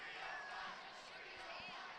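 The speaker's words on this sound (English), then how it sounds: "305 is what they're chanting." A large crowd at a youth flag football championship chants in unison, a distant roaring mass of voices that swells and fades under faint announcer-like talk.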